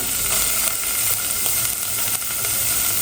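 Cumin seeds, bay leaf and chopped onion frying in hot oil in a pan, a steady loud sizzle and crackle heard close up and continuous throughout.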